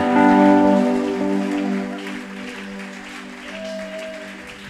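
A church congregation claps in praise during a worship service, a dense steady patter like rain. The clapping runs throughout beneath sustained musical tones and singing.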